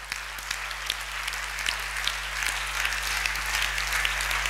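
A church congregation applauds at a Sunday worship service, a steady, dense wash of clapping from many hands that holds through the whole stretch with no voices rising above it.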